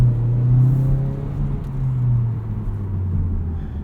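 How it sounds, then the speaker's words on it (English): A 2018 Mazda CX-3 Grand Touring AWD pulls away from a stop, heard from inside the cabin as a steady low engine drone and road rumble that swells slightly, with no one talking. "Pickup from a stop is pretty good."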